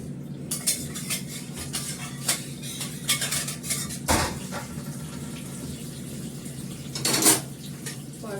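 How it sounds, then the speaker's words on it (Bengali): A kadai (wok) being washed with water, with intermittent metallic clanks and scrapes, a louder knock midway and a brief rush of water near the end, close and without talk. "কড়াটা আমি ওপর থেকে ধুয়ে নেব"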